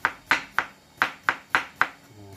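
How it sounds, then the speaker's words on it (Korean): A knife chops salted pickled cucumber (oiji) on a cutting board in a steady rhythm of about nine crisp, close, evenly spaced strikes, with no talking over them. "칼질이 예술이네."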